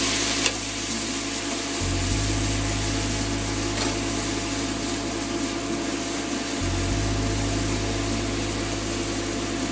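Onions sweat gently in a pan for a chicken tikka masala, a steady low sizzle with a faint broadband hiss running evenly throughout and no one talking.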